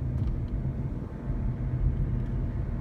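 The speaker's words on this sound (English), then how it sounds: "this girl is driving the car" A car driving through Gardena gives off a low, steady engine and road rumble from inside the cabin, continuous and fairly quiet with no voices.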